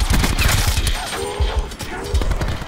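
Rapid bursts of gunfire from a multiplayer video game shooter, loud and dense with repeated sharp shots through most of the stretch, with a squad firing near and far.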